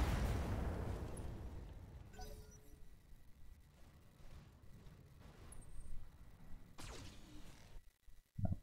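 A heavy blast from a mech's weapon in the video game Battletech rings out and decays into rumbling debris and crackle, followed later by another whooshing burst; no speech.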